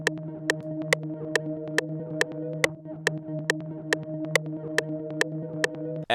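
Rendered synth pad loop repeating as a static audio file without delay, a steady sustained chord under sharp, evenly spaced clicks roughly every half second, alone and at moderate level.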